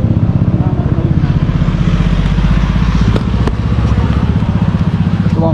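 Motorcycle engine idles close by in a rapid, even thumping pulse, loud and steady throughout, with a couple of brief clicks partway through.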